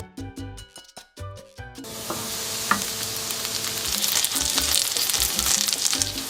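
Sliced pork and bitter melon fry in a covered pan turned down to low heat, giving a steady, dense sizzle with occasional pops. Brief music plays at the start before the frying carries on alone.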